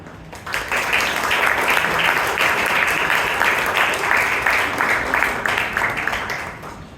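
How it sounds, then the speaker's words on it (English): A Toastmasters club audience in Bangalore breaks into a sustained, dense round of applause, with many hands clapping steadily for about six seconds at close range before tapering at the end. "Everyone, give a thunderous round of applause for Toast table topic master, Toastmaster Alok Simha."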